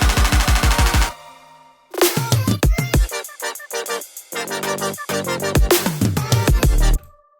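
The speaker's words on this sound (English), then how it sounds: "And get these toms in here to make it like a big fill." An electronic music track builds into a big drum fill of punchy toms, with loud rapid hits alongside a kick, synth stabs and short gaps between bursts.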